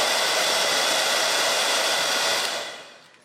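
A 1600W hair dryer runs alone with a steady, loud broadband blowing roar for about two and a half seconds, then it fades as the dryer is switched off.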